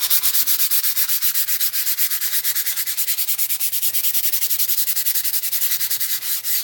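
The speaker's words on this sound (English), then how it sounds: "I'm sanding real quick, so close your ears" Sanding a craft piece by hand, with steady, rapid back-and-forth rasping strokes that are loud, close and continuous, with no talk.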